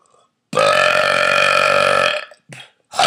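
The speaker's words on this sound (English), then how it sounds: "I love to burp." A man lets out one long, loud, resonant burp lasting about a second and a half, followed by two shorter throaty bursts after a brief pause.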